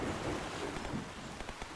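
Rain pouring with rumbling thunder in the video game Snacko, a heavy low roll of thunder under a continuous rain hiss that eases slightly toward the end.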